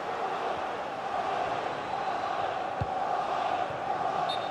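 Steady crowd roar from a FIFA 22 football match, a dense continuous wash of stadium noise swelling as an attack builds, with no close voices standing out.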